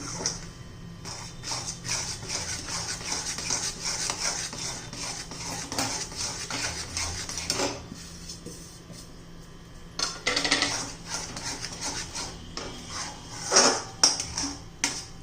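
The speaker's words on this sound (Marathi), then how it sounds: "चांगलं घट्ट होईपर्यंत आपल्याला हलवत राहायचं आहे" A spoon scrapes and clinks against a pan while a milk powder peda mixture is stirred, giving repeated close metallic strokes in irregular bursts with brief pauses and louder clanks near the end.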